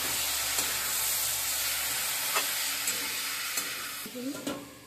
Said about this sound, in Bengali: একটু জল দিয়ে দিচ্ছি, দিয়ে 2 মিনিটের জন্য চাপা দিয়ে রাখবো।